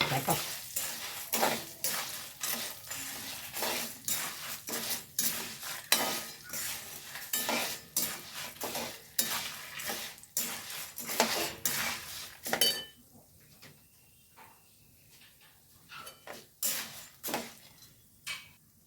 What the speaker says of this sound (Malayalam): നമുക്ക് ഉഴുന്നുപരിപ്പ് കളറ് മാറുന്നുണ്ട് നമ്മൾ എടുത്തു വെച്ച ഒരു അഞ്ച് മുളക് ഉണ്ടല്ലോ അത് ഇതിലേക്ക് തട്ടി കൊടുക്കുന്നുണ്ടും